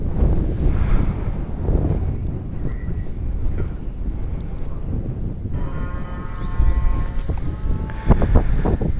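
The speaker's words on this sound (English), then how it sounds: "Day 1, afternoon, very windy day." Strong wind blows across an open field at a model glider competition in Dupnitsa, Bulgaria, a loud continuous rush buffeting the microphone, with some faint tonal beeps joining toward the end.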